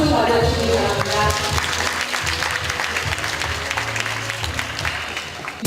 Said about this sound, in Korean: 박수로 받아주시기 바랍니다.